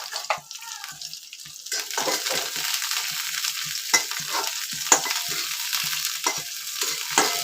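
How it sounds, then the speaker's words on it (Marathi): Chilies, ginger and garlic roasting in a little hot oil in a kadhai give a busy crackling sizzle, broken by repeated clattering stirs and scrapes, close up with no voices. "कढईत थोडंसं तेल घातलं आणि मिरची, आलं आणि लसूण मी भाजून घेते पहिलं."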